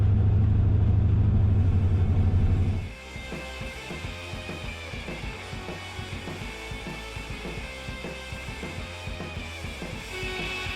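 An old Squarebody dually truck's engine runs while driving, starting with a loud low rumble that quickly settles into a steady, moderately loud mid-range drone with rhythmic pulsing.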